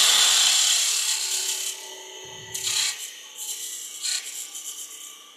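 A wood turning tool cuts a straight tenon on a lathe, a continuous bright scraping rasp with a few brief intensifications, alone and close with no talk.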